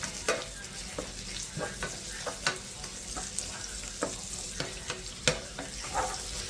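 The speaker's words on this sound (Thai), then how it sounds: "เราจะผัดให้หอมก่อนนะครับ" Garlic, ginger and spices stir-fry in a pan for Singapore-style chicken rice, with a soft bed of sizzling punctuated by sharp, irregular spatula scrapes and clacks up close.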